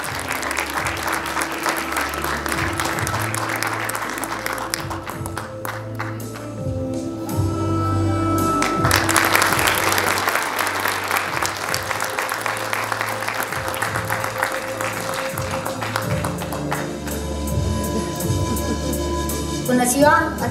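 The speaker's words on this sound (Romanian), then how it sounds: "Încă o dată aplauze pentru sportiva anului" Audience applause at a school and sports gala in Onești, a sustained crowd of clapping hands that swells and continues throughout, with a voice speaking over it at times.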